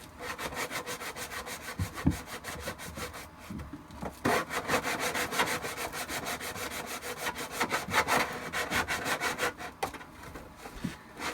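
Coarse edges on a Shadow Trooper armor piece are rounded off with quick, rhythmic back-and-forth rasping strokes. The sound is close and even, with a few brief pauses and no talk over it.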